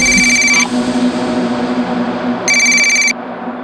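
A phone rings with two bursts of an electronic ringtone separated by a pause, over a low background hum.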